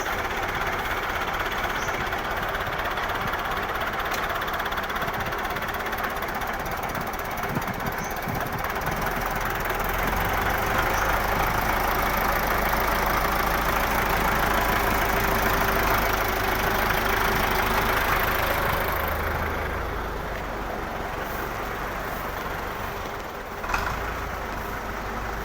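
A Belarus 510 tractor engine idles steadily up close in Punjab, Pakistan, a low, even diesel rumble that holds for the whole stretch without a break.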